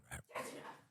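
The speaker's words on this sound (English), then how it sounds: "Apparently, we're having a dog fighting contest in the background." Dogs bark and yelp in a brief scuffle somewhere in the background, the burst loud and close for a moment, then fading into muffled noise.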